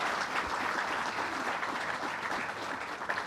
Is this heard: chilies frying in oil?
no